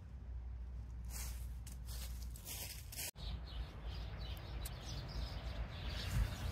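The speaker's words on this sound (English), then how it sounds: "those birds are loud" Birds chirp and sing outdoors beside a workshop where a Volkswagen Beetle is being restored, the calls steady and fairly loud over a broad hiss of background noise.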